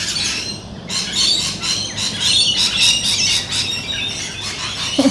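Several birds squawk outdoors on a morning, making loud, harsh, overlapping calls that repeat close by in bursts with no pause, while no one speaks.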